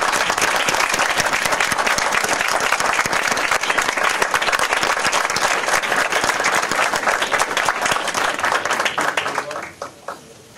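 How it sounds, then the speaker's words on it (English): Loud, dense round of applause from the audience at a Brookhaven city council meeting, sustained for several seconds before thinning into a few scattered claps that die away. "If we could all give these folks a round of applause."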